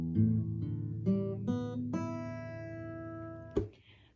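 Guitar strings plucked one after another, each tuned open string ringing out clearly and sustaining, building into a layered chord before being muted with a soft thump near the end.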